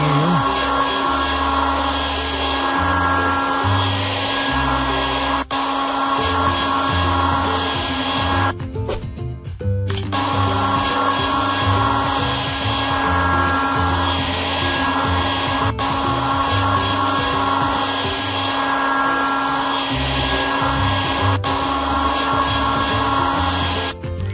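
A hair dryer blows in a kids' spa makeover video game, a steady loud whir over cheerful background music that cuts out briefly partway through, then resumes.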